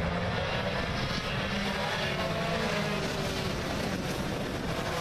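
Club racing karts with engines running on a shortened formation lap, a dense, continuous buzzing engine drone with wind noise, loud and steady throughout without any talking.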